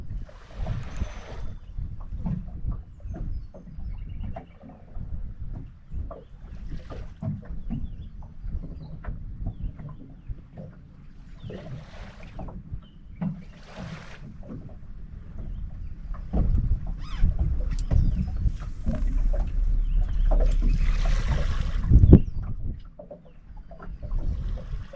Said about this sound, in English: The wind you can hear in the camera right now is a southwester blowing